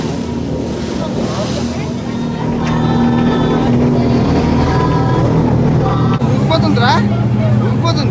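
A ship on an ocean journey through Tuvalu ploughs through churning sea water with a loud, continuous rushing and roaring wash, strong wind buffeting the microphone and voices talking and calling over it.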